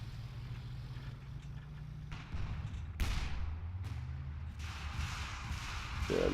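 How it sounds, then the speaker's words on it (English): A Stuka dive-bomber barrage in a WWII video game: a low engine drone gives way to sharp bursts and heavy blasts, with several crashing impacts in close succession, loud and near over rumbling battlefield noise. "another Stuka barrage going in"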